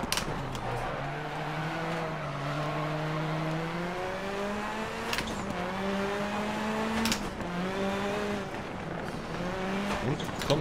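Rally car in the video game DiRT Rally on a PS4 rallycross stage, its engine revving up and down through gear changes with rising and falling pitch, plus occasional tire skids, loud and continuous.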